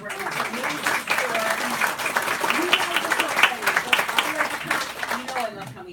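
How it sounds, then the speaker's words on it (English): A bookstore audience at an author event breaks into warm, sustained applause, many hands clapping at once, while a voice speaks over it. "Could we just have a round of applause for Barbara?"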